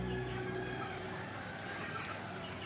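Chickens cluck in a low, scattered chorus, soft and somewhat distant, with faint background hum underneath and no talking.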